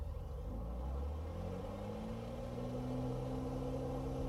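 A propeller aircraft engine in Microsoft Flight Simulator 2020 throttles up, a loud continuous low drone whose harmonics climb steadily in pitch as the revs build toward full power, with no talk over it.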